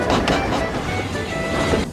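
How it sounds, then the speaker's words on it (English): A small steam engine rolling along railway track, steady rhythmic chuffing and wheel clatter, moderately close and continuous for two seconds with no voices. "Soon they heard an unfamiliar puffing sound."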